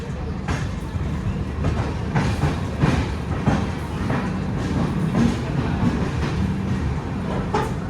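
The Howrah–Bangalore Duronto Express rolls along the rails after leaving Kharagpur, with steady rumbling and rhythmic clickety-clack wheel beats, heard from inside a moving 3rd AC carriage, with no talk.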